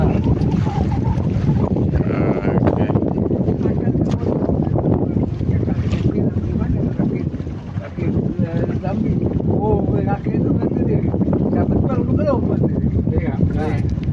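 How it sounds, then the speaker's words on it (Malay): Strong wind roars and buffets steadily around an open boat at sea, heavy rumbling gusts across the whole stretch, with voices talking under the noise. "Angin kuat."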